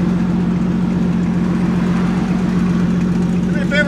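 A modified car with a cab-back exhaust idles at a traffic stop, a steady low rumble running under the whole stretch, with a voice briefly at the end.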